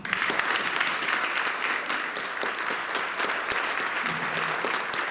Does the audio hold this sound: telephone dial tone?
no